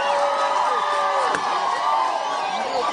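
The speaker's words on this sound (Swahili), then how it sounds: "Wapi makofi wananchi?" A large crowd at a presidential event in Luo Nyanza, Kenya, cheers and whoops continuously during a permit handover, a dense roar of voices from start to finish.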